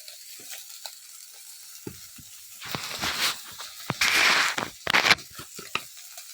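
Soybean chunks frying in a pan give off bursts of crackling sizzle and sharp spattering pops that swell and fade, with stirring noises between the louder bursts.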